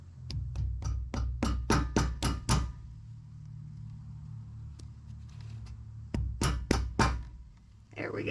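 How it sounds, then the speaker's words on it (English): A small hammer taps a pin into a boat trailer hub in quick bursts of sharp metallic strikes, eight or so in a row, a pause with a lone tap, then another flurry, close up. "Usually you need a little hammer tapper in there."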